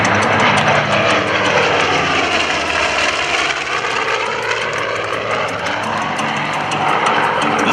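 A loud Douglas A-1E Skyraider propeller aircraft engine roars steadily and close, its throbbing drone sweeping slightly in pitch as the plane passes overhead at an airshow.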